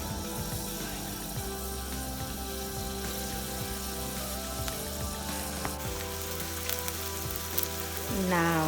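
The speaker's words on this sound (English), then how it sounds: "onion is cooking, sizzling." Continuous crackling sizzle of chopped onion frying in cooking oil in a hot pan, close and steady, with a brief spoken word.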